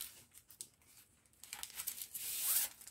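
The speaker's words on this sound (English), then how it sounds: "put some washi tape on it so that it's um, ready to start" Washi tape is peeled and torn from the roll for a diamond painting kit, a short crackling rip that rises into a brighter zipping tear near the end, close and quiet.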